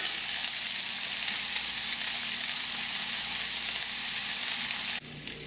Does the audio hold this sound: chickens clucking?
no